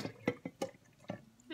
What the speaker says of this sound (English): I try to just generally pour off the top of the cream here